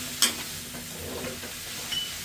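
Vegetables for sambar with turmeric and chilli powder are stirred in a pan, giving a soft sizzle with scraping strokes and a couple of sharp metallic clinks, close and alone without talk.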